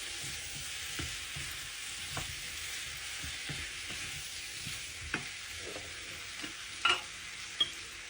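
Spicy devilled potatoes with chopped chilli sizzle in a pan, with a steady frying hiss and a spoon stirring and knocking against the pan in scattered taps, close by.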